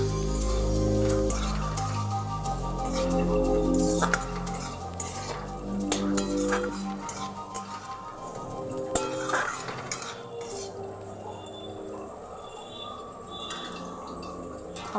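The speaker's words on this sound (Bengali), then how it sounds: "ঢাকনাটা খুলে আবারও নাড়াচাড়া করে নিতে হবে" Sesame-poppy seed mixture with onions stirred in a pan with the lid off, with close metallic scraping and clinks of spoon against pan in bursts over a low steady hum and no talk.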